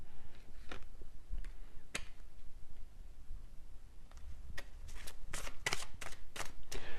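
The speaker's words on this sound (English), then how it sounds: "when I shuffled this messages deck, which I'm actually going to use right now" A deck of oracle message cards shuffled by hand, giving sparse soft riffles and taps early on, then a quick run of crisp flicks and snaps toward the end, close and fairly quiet.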